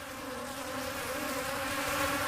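A dense, steady hum of European and Asian bees buzzing together at a feeding station in Cairns, fairly faint but continuous, with no voices.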